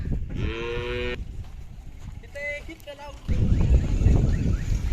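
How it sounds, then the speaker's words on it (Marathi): A bull moos loudly and close by, a long drawn-out call, followed by a shorter lowing with wind and crowd noise rising behind it at a bullock cart race. "बरेचसे बैल आलेले आहेत, इकडं बांधलेले आहेत, पाहू शकता"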